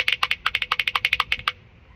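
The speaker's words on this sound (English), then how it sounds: "today I'm gonna teach you how to do the slapper, which is a really fun move that I do a lot when I play" Musical spoons played with the slapper technique: a fast run of about twenty crisp, clacking hits in an even, rolling rhythm, close and sharp, then stopping abruptly.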